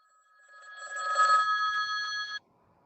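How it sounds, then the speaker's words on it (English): A telephone bell rings steadily for about two seconds, loud and close, then cuts off abruptly into silence. "Oh, let it ring, let it go on ringing."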